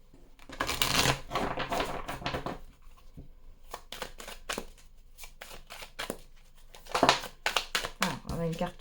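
Oracle cards riffle and shuffle in crisp, papery bursts close to the microphone, with sharp flicks and taps scattered throughout, including one card dropping out. Someone talks over much of the shuffling.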